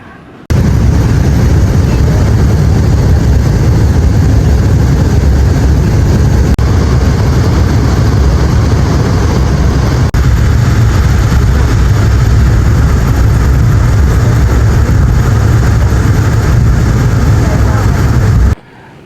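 Loud, steady engine roar with constant low rumble throughout, inside the cabin of a Volaris airliner landing in Mexico City, with no clear speech.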